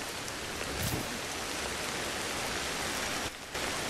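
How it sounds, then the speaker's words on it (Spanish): Rain falls in Ancestors: The Humankind Odyssey, a steady, even hiss of downpour that fills the scene at moderate level, with a brief dip near the end. "Está empezando a llover."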